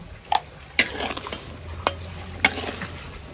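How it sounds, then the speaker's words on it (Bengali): Cucumber goes into a pan with a little water and salt, producing a few sharp utensil clatters against the pan over a soft, low sizzle and faint stirring, with no talking. "শসাটা আমি একটু ভাপ দিয়ে নেব। এবার শসাটা দিয়ে দিচ্ছি।"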